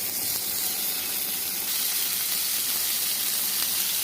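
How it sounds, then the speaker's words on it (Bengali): Chicken pieces hitting a hot pan with a little oil, a steady loud sizzle and hiss of frying that stays constant and close with no talk over it. "আমি এখন এখানে চিকেন দিয়ে দিচ্ছি।"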